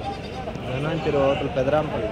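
Goats bleat repeatedly amid a busy Tuesday livestock market in Kadiri, where goats and sheep are sold, the wavering calls rising over constant crowd chatter and market noise.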